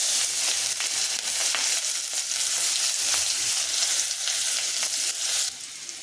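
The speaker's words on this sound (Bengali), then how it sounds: "তেল গরম হয়ে গেছে শুকনো লঙ্কা গোটা জিরে কুচানো পেঁয়াজ" Dried chillies, whole cumin and chopped onion hit hot oil in a pan, giving a loud, dense, continuous sizzle up close that drops slightly in level near the end.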